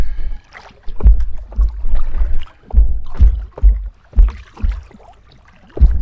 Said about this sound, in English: Really hear the water on the boat now, on the craft at the front, slapping into it.